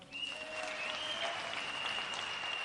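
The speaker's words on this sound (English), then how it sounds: "Who can clap for General Mbadi?" A crowd at an outdoor political rally and manifesto launch in Kenya claps in sustained, even applause that stays at a steady level from start to finish, with a faint steady tone running underneath.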